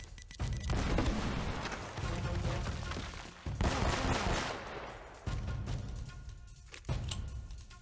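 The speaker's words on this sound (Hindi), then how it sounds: "ये लगी मशीन गन चला रहा है बंदा" Machine gun fire in the game Uncharted: Drake's Fortune, loud sustained bursts with brief gaps, followed by more rattling volleys through the clip.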